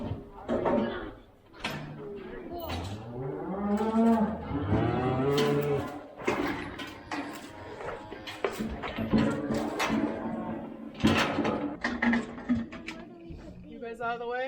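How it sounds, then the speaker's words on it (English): Cattle moo repeatedly in pens during pregnancy checks on a farm in November, the calls mixed with rattling gates and people talking nearby. "We are preg checking cows."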